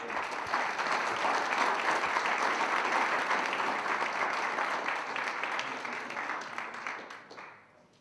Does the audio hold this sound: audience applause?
yes